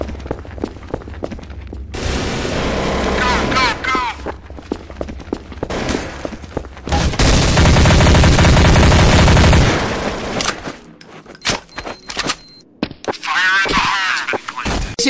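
Rapid bursts of video-game gunfire from a burst-fire weapon, with loud dense stretches and short volleys mixed with explosive booms and other game sounds, plus voice chatter in places.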